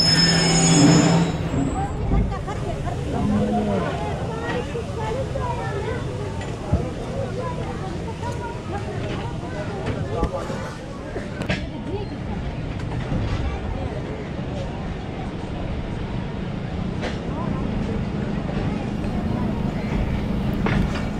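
Thal Express passenger train pulling out of Mianwali station, a steady broad rumble of wheels and rail noise rolling on continuously with faint clatter, heard from the platform's far side.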